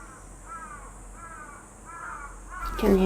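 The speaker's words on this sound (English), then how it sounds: "You can hear the crows." Crows cawing in repeated harsh calls, four spaced bursts at moderate distance at Ueno Zoo in Tokyo, over a steady outdoor hum with a louder bump of noise at the end.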